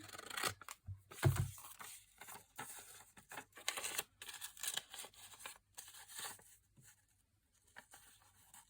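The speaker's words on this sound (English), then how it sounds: "Yeah, just cut a little bit down there." Scissors snip through a paper envelope for a junk journal, with a run of close, quiet crisp cuts and rustles in irregular bursts separated by short pauses.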